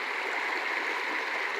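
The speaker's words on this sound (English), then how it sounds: "We're out here at Falls Creek Park, over the creek." Creek water flowing steadily at Falls Creek Park near Faribault, Minnesota, a continuous close rushing and gurgling wash with no voices.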